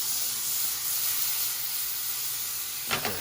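Garlic sizzling in a hot pan alongside steak, a steady close crackling hiss that runs throughout, with a couple of brief stirring scrapes near the end.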